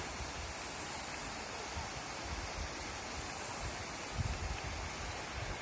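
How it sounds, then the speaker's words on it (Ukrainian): The Opir river in Skole, Ukraine flows with a steady, soft rushing hiss, fairly distant and even, with no voices. "річка Опір."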